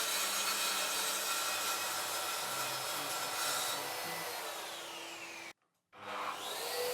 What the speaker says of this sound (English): Here you can see just how smooth and controlled the plunge action is.